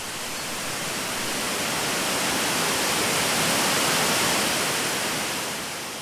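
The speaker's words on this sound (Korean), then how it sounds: "끊임없이 떨어지는 물줄기가" Twin waterfall in Mureung Valley on Dutasan pours in a steady, dense roar of falling water, loud and unbroken throughout with no voices.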